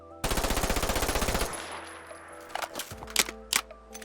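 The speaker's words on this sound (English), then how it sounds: "Now we move on to the APC-9, starting with the partially full magazine reload." APC-9 submachine gun from a Fallout 4 mod: a loud burst of rapid automatic fire, then a partial-magazine reload with distinct metallic clicks, a mag slap and a bolt rack.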